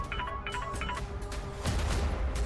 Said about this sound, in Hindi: कोमल का फोन?